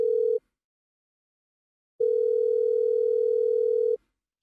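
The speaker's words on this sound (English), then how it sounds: "It's ringing." Ringback tone on a VoIP call: a loud, steady single-pitched tone sounds briefly, stops for over a second of silence, then returns for about two seconds before cutting off.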